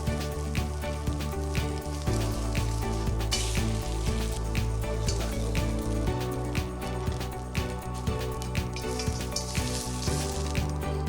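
Shrimp stir-frying in oil in a wok, a steady sizzle and crackle with frequent sharp spatters and pops as the shrimp are turned, close and continuous with music playing underneath.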